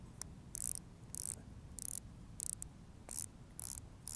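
Dial-type lacing on a Speedland trail running shoe being turned, giving quick bursts of fine ratcheting clicks in an uneven rhythm, close and fairly quiet.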